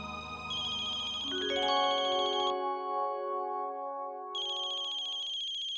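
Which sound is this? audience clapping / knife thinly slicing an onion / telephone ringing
telephone ringing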